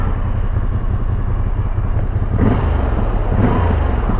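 A Moto Guzzi V85 motorcycle engine running at a steady pace through town, a loud, continuous low rumble close up with slight swells in intensity and no voices.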